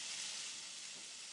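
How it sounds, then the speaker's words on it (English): Diced meat sizzles steadily in a hot pan, a close, continuous bright hiss of frying with no talk over it. "we're going to put the diced meat that we did right in this hot pan. It's all ready to go, nice and sizzling"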